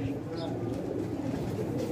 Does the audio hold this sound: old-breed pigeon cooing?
yes